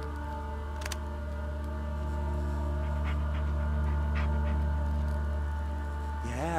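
Bullet, a dog in the Blair Witch video game, pants in a soft, continuous rhythm over a steady low game hum, with a brief whine near the end.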